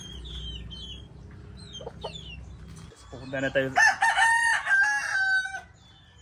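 On a farm in Calabanga, Philippines, hens cluck and chirp at first while someone speaks briefly. Then a rooster crows loudly and close in one long, wavering call.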